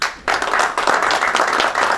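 Crowd applause for a champion football team erupts after a brief quiet pause, steady dense clapping from a large audience at a celebration, continuing strongly to the end.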